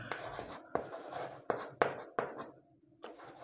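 A pen or pencil writes out a division sum for a Class 5 maths lesson, giving close, quick scratching strokes in short bursts with brief pauses between them.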